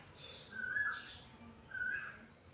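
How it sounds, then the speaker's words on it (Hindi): An Asian koel calls close by, giving two separate rising whistled notes against faint background hum. "कोयल की आवाज़ शायद सुनाई दे रही होगी आपको"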